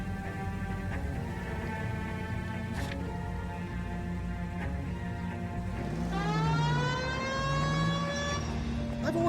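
Police car siren in the video game L.A. Noire, a wailing rising and falling tone that swells over a running engine, with a voice talking over it.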